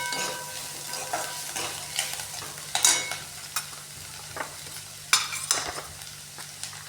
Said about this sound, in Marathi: कांद्याला व्यवस्थित परतून घ्यायचं आहे